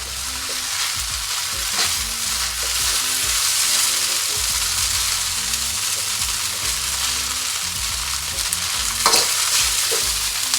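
Chow mei fun rice noodles with sweet sour sauce tossed in a hot pan with chopsticks or tongs, a dense, loud, steady sizzle broken by a few sharp scrapes and clatters as the noodles are flipped.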